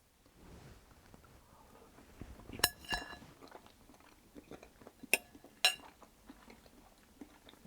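Someone takes a taste of porcini mushroom and pea risotto, with soft chewing and a few sharp clinks of cutlery against a plate, all close and quiet with no talking.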